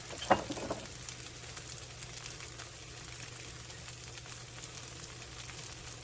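Hash browns fry in a little olive oil, making a soft, steady sizzle throughout, with a couple of light clinks near the start.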